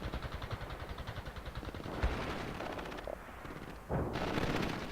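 Machine gun fire in World in Conflict, Soviet assault in war-torn Europe: rapid rhythmic bursts at first, then heavier sustained automatic firing and blasts layered into a dense, loud battle din.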